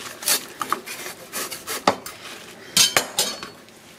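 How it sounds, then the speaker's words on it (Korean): A knife cuts and trims napa cabbage on a board for summer kimchi, giving repeated crisp chopping and scraping knocks at an irregular pace with no talking. "지저분한 거는 이렇게 잘라주시고"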